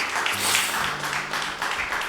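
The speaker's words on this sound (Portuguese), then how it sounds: "Pode aplaudir o nome do Senhor Jesus?" Church congregation applauding in a sanctuary at the close of an evangelical service, a steady broadband wash of clapping held at an even level throughout with a low hum underneath.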